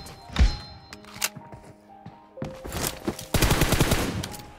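Bursts of gunfire from the battle game PUBG, a heavy thump early on followed by rapid, dense volleys of shots in the second half, loud and close.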